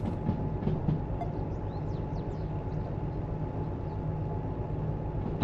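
A diesel locomotive in the video game Derail Valley runs with a steady low engine drone and faint rail rumble, holding even and fairly close with no talking over it.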